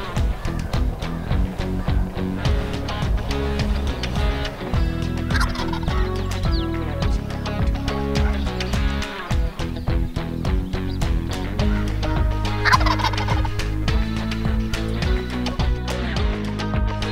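A wild Merriam's turkey gobbles on a ranch during a spring hunt. Two rolling gobble bursts come several seconds apart over loud, dense background music.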